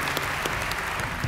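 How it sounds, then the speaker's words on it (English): A short burst of audience applause at an awards ceremony honoring a youth leadership award recipient in education, steady dense clapping throughout with no talk. "let's give a deserving round of applause to our honoree for our Youth Leadership Award in Education, Ms. Grace Bush."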